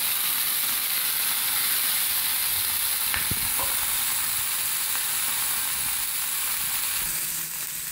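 Fish frying on one side in a pan for fish head curry, a loud continuous sizzle and hiss of hot oil with a couple of brief clanks around the middle.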